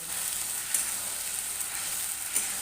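Vegetables for shukto stir-fry in a pan over a medium flame, giving a steady close hiss with a couple of faint stirring scrapes.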